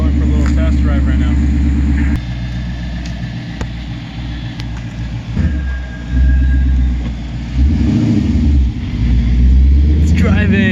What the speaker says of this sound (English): We're going for a little test drive right now.